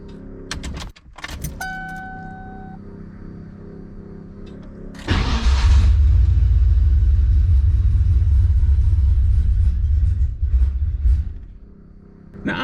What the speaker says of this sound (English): E85 cold start, so it's going to be very grumpy starting up.